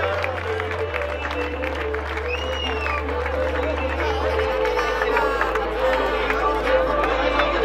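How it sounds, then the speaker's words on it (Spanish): Outdoor crowd applauding a prize winner at a Dragon Battle obstacle race awards ceremony in Santiago del Teide, steady clapping mixed with chatter and cheers under an amplified announcer's voice. "Un aplauso."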